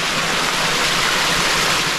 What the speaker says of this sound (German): Das Rauschen dieses kleinen Wasserfalls da vorne